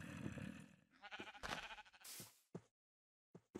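Sheep bleating in a video game, a couple of wavering bleats close by, followed by short clicks and gaps of silence, with no talk.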